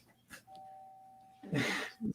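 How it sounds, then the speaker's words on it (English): A doorbell rings with a steady tone followed by a louder chime, with a soft voice murmuring at the start. "my doorbell just rang"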